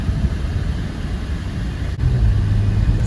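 A Porsche 718 Cayman S engine pulling as the throttle opens at around 40 mph on the road, a dense low rumble that swells slightly toward the end, with no talking.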